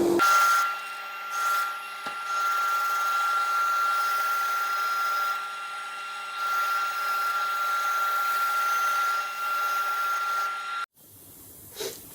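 A Fiji mahogany bowl spinning on a lathe is sanded up to 400 grit, a steady loud whirring rasp with a dust collector roaring throughout, the noise cutting off abruptly near the end, leaving quiet room sound.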